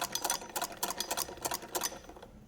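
A sewing machine stitches piping onto cloth in quick rattling bursts, a close, busy mechanical chatter with slight pauses between runs, fading out at the end.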